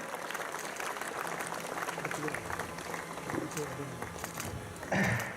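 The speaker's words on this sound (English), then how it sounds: "A great round of applause from our audience." A large audience applauds steadily at the inauguration of the Eastern India Science & Engineering Fair 2025 at the Birla Industrial and Technological Museum, Kolkata. The dense, even clapping fills the hall and swells briefly near the end.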